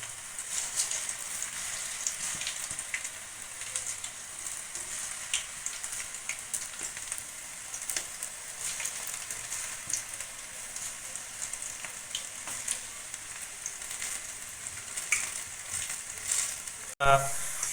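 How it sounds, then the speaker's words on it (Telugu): Wheat flour pakodas deep-frying in hot oil give a steady, close crackling sizzle with fine popping, continuous and even throughout, a brief clunk near the end, no talk. "ఇప్పుడు ఇక ఆయిల్ హీట్ అయింది కాబట్టి మనం పకోడీలు వేసుకోవడం స్టార్ట్ చేద్దాం"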